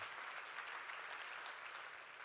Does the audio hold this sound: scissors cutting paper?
no